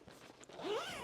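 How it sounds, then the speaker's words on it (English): A long zipper on a Patagonia Black Hole MLC 45L carry-on travel bag is drawn open in one quick, close pull, with a soft rising rasp. A few light handling rustles come just before it. "Here's the ginormous long zipper."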